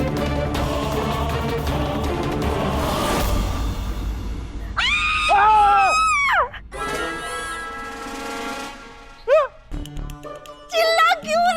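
A woman screams loudly and shrilly in a Hindi-language TV drama scene, in several strained bursts mixed with raised voices and talking.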